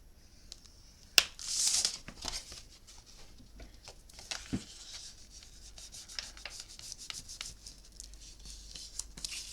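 Paper being scored with a scoring tool while making a memory book: a sharp click, then a short rubbing drag, followed by light scattered scratches and taps close by.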